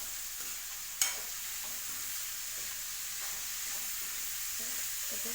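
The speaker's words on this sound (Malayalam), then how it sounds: "ഉപ്പിട്ട് ഇളക്കി കൊടുക്കുക നന്നായിട്ട് ഇളക്കി കൊടുക്കുക" Salted onions sautéing in a pan for onion curry, a steady bright hiss of sizzling with one sharp utensil knock early on and faint stirring movements afterward.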